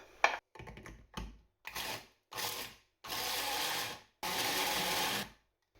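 Onions, garlic, ginger and chipotle flakes whizzed in a blender or food processor for a kimchi paste: a few short pulsed bursts, then two longer whirring runs, close and moderately loud, with no talking.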